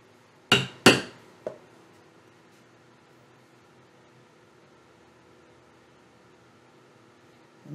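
A hammer strikes a pricking iron into a leather wallet, two sharp close whacks in quick succession and then a lighter tap, followed by near silence.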